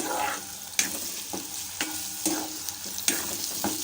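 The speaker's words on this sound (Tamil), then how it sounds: "உளுத்தம்பருப்பை வதக்கி விடணும் அடுப்பை மிதமான சூட்டிலே வச்சுட்டு வதக்கணும்" Ground urad dal and soaked poha sauté in a pan over medium heat, giving a continuous close sizzle punctuated by regular scraping strokes of a stirring spoon, with no voices.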